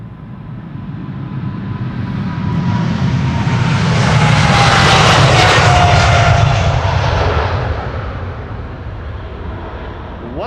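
A KLM Boeing 777-300 jet departs on a flight to Delhi, its engine roar swelling to a loud peak at mid-clip and then fading while staying strong, with a faint whining tone over the broad rumble and no talk.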